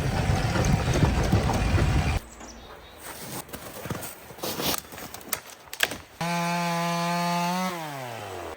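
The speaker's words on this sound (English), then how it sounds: "I am so glad I've got a working chainsaw." A chainsaw roars close up cutting fallen trees, then drops to idle amid cracking and thumping wood, before revving again into a sustained high buzzing whine that winds down.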